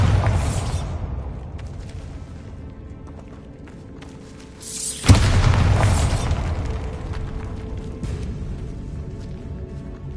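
A Bombarda spell detonates in Hogwarts Legacy, a sudden booming burst midway that swells out of a steady rumbling game ambience and lingers as a rolling roar.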